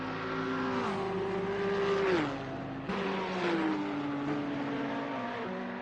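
Racing cars, including a Nissan GT-R GT3, roar around the Monza circuit in a video game, engines holding a steady whine before dropping as they shift and brake, loud and close with no talking.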